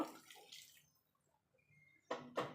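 Hot water poured into a vegetarian green jackfruit curry cooking in a pan: a soft splashy pour at first, a quiet pause, then two short, sharper gushes near the end, close by and with no talk.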